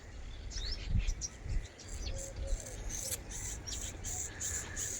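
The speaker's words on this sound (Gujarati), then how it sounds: "હવે તમે સાંભળજો અહીંયા પક્ષીઓનો કેવો અવાજ આવે છે." Birds chirp and tweet in quick, high calls around a quiet village in Malapara, spread through the clip over a low, soft outdoor rumble with no talking.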